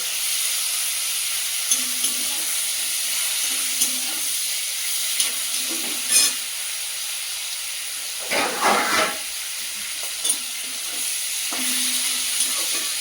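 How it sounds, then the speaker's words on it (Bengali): Small shrimp frying lightly in a pan, a steady close hiss of hot oil with occasional louder bursts of crackling and a few clinks from stirring. "ছোটো ছোটো চিংড়ি, তাই অনেকগুলো একসাথে দিয়ে দিলাম। হালকা ভেজে নেবো"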